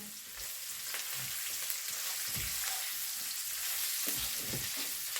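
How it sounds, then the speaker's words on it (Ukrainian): Steady sizzling of cauliflower frying in a pan over low heat, a continuous crackling hiss with occasional soft stirring knocks, close and alone. "І так буду смажити десь 4 хвилинки."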